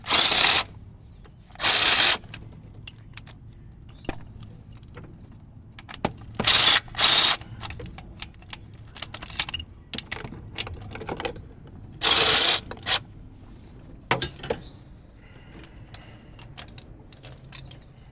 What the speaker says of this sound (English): now I'm going to finish removing those bolts so I can pull it out of the way